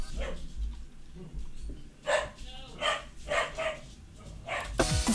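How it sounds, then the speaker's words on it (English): Several dogs bark in repeated bursts, some close and loud, others yipping and whimpering, with a person talking over and between the barks. "Dogs barking"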